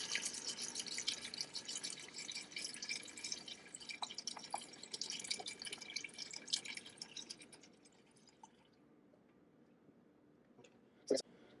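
Broth pours steadily into a soup pot for chicken noodle soup, a soft continuous splashing and trickling that fades after several seconds, with a brief sharp clink near the end.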